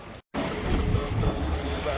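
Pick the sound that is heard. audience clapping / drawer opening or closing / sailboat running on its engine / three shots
sailboat running on its engine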